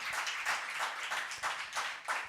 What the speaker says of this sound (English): Can we have a huge round of applause for all our speakers?